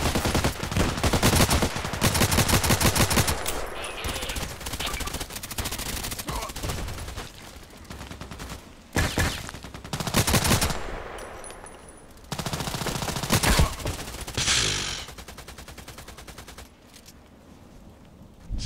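Rapid bursts of RFB rifle fire in the shooter game Contract Wars, on the Terminal 2 map, crackle close and loud in repeated volleys with short gaps, mixed with other gunfire throughout.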